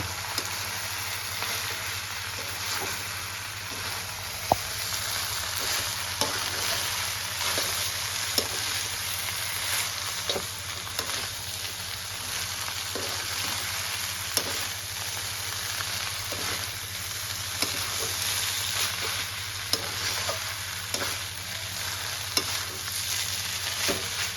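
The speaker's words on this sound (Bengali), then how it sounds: "মিক্স করে নেব" Egg prawn chow mein stirred in a hot pan, steady sizzling frying with regular soft scrapes and clinks of the spatula repeating throughout, close and continuous.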